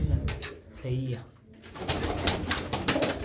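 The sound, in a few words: pigeons cooing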